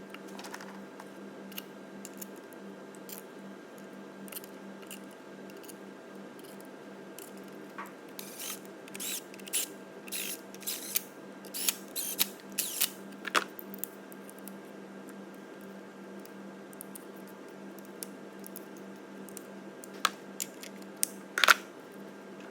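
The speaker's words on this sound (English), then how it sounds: "I'll then just run round them all individually, just with a ratchet" A ratchet snugs down bolts on a Volvo V40 engine, giving faint, sparse clicks and short scrapes close by over a steady low background hum, with no talking.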